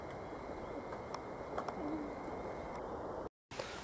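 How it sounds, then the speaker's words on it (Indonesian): A pergam imperial pigeon calls from far off in the forest, faint low coos over a quiet background hiss. "sepertinya ada burung pergam Mas Bro"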